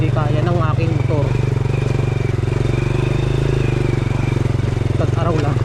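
A motorcycle on a rural road through open fields and farmland, its engine droning steadily and close throughout, with someone talking over it in bursts.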